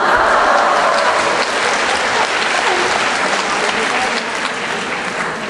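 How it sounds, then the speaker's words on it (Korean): An audience at an alumni choir concert applauding, dense continuous clapping that stays loud throughout, with a few voices mixed in. "지금도 이렇게 박수를 쳐주시는데"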